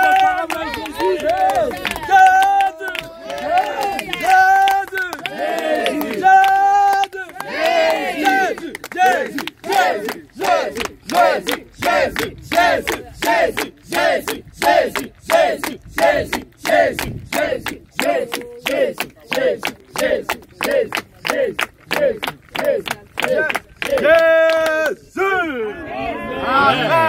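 A church congregation in Calavi cheers for Jesus. A lead voice sings and calls over the crowd, then the crowd breaks into fast, steady rhythmic clapping and shouts that continue loud and close for most of the span.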